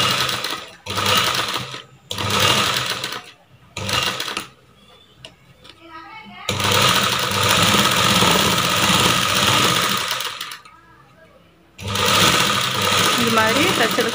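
Sewing machine stitching a V-shaped blouse neckline in several bursts of rapid mechanical whirring, with short pauses as the fabric is turned; a voice talks in the gaps.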